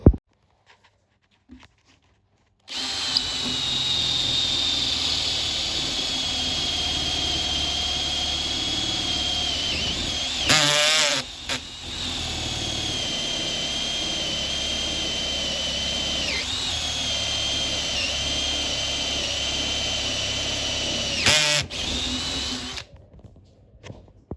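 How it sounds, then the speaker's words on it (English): A power drill bores out a carved pounamu jade handle, a loud, high, continuous whine that starts after a quiet opening and briefly breaks off twice before winding down. "I'm just going to drill this out"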